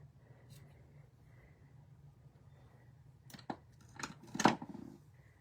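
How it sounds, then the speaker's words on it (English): Scissors snip the ends off a ribbon on a handmade boho-style craft bundle, a few close, crisp cuts toward the end after soft handling noise. "And then we will cut off the ends."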